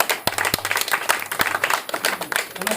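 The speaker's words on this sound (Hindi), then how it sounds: "आपकी जोरदार तालियों के बीच" An audience at a motivational speech claps loudly and briskly, a dense burst of close applause with a few sharper individual claps standing out.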